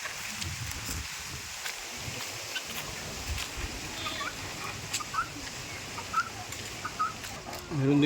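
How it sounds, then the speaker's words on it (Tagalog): Chickens cluck and call in a rural countryside yard, faint and spread out beneath a steady wash of outdoor noise and insects, with a louder thump near the end. "Marami silang alaga na mga manok."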